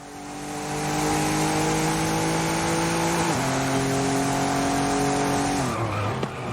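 A BMW race car in a racing video game roars with a loud, sustained engine note that climbs steadily. The pitch drops at two gear shifts, and tire noise hisses underneath.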